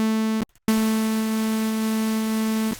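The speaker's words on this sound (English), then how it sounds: "In the second instrument, that is the analog here, I am simply going to use the noise oscillator." Noise oscillator of Ableton Live's Analog synth with oscillators 1 and 2 switched off, giving a steady sustained buzzy tone that starts, drops out briefly, then holds loud and even for about two seconds before stopping.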